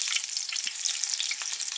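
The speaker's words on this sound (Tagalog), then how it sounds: "Prito muna tayo ng ating eggplant." Peeled eggplant for an eggplant omelette fries in hot oil in a pan, giving a steady, close hiss with fine crackling pops and no voices.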